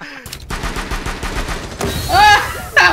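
Rapid bursts of gunfire in a Rainbow Six Siege match, dense repeated shots filling most of the moment, followed by a sharp louder crack and a brief final burst, with faint game voice sounds mixed in.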